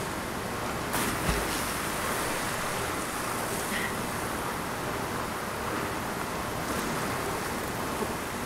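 Steady broadband roar of a waterfall in Zelda: Tears of the Kingdom, a constant rushing wash of falling water at an even loudness throughout, with no voices.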